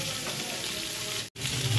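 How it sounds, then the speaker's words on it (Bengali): Eggplant pieces frying in hot oil with dry red chillies, giving a steady, close sizzle throughout with one brief dropout near the end. "দিয়ে বেগুনগুলো একটু ভেজে নেব"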